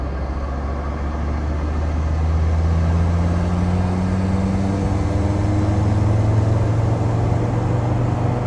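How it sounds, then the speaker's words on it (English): A Land Rover Td5 diesel with a ZF8HP gearbox conversion accelerating hard in seventh gear, a loud steady engine drone with a low tone slowly climbing in pitch, heard from inside the vehicle without talk. "Right, we'll do a 7th gear pull. Yeah. Let's foot down."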